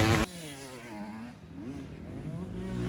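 Dirt bike engine revving during an IXCR cross-country race, a loud burst at the start followed by a continuous wavering engine drone with shifting pitch, fairly close, with some faint voices mixed in.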